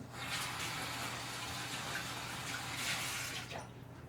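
Gloved hands rinse in warm water in a home cheesemaking kitchen, a steady close splashing and gushing that swells and eases over a few seconds, with no talking.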